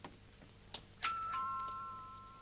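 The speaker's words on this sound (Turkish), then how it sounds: "Kapı Aa! zili." A few soft taps, then a two-tone doorbell chime rings out clearly and its tone lingers and fades.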